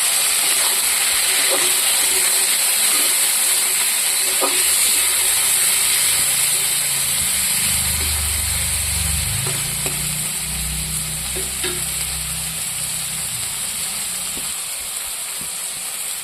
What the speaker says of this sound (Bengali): ওই সাথে আমি এই মাছটাও দিয়ে দেবো। একটু পেঁয়াজের সাথে ভাজা করবো।